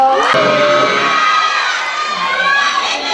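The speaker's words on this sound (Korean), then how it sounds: "큰 박수로 맞이해주세요" Schoolgirls at a high school presentation event cheer and shout excitedly to welcome two first-year student presenters, a bright, loud burst of young voices with clapping mixed in, swelling at the start and again near the end.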